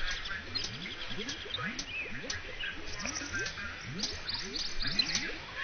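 Birds in the game Viva Piñata chirp in rapid, repeated rising calls, moderately close, over a soft steady background ambience.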